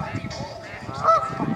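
A duck outdoors on a nature outing gives a short, nasal honk partway through, over rustling background noise and faint breathy sounds near the microphone.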